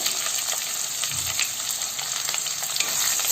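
Chopped potatoes and onions fry in a pan for a homemade spicy potato curry, a steady close sizzle with light stirring scrapes throughout, no voices present.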